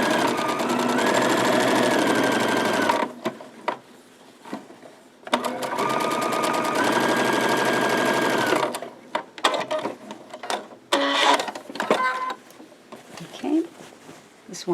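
A sewing machine stitches a seam on a market tote in two long, loud, steady whirring runs, followed by shorter stop-start bursts and handling clatter.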